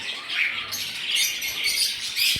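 Lutino cockatiels kept at home give a steady run of bright, high chirps and squawks, fairly close and continuous, with no talking.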